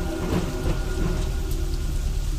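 Heavy rain pours down steadily with thunder rumbling through it, a dense, loud wash of falling water and low rolling booms from start to finish.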